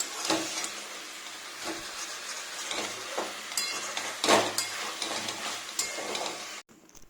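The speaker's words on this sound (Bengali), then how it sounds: "ভালো করে মশলা কষিয়ে নিই" Spiced masala fries in a pan, a constant close sizzle and hiss with occasional stirring scrapes, cutting off abruptly at the end.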